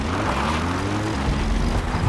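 A support helicopter arrives in Metal Gear Solid V, its loud, steady rotor and engine drone holding close and constant throughout with no voices.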